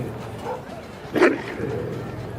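A big angry dog in a Filipino aswang radio horror drama gives one loud bark with a snarl partway through, set against a dark music bed.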